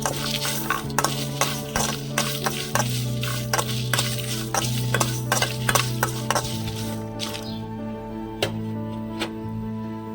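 Dry red chillies and sesame seeds roast in a pan, with a soft crackle under repeated scraping and stirring knocks against the metal and music running beneath.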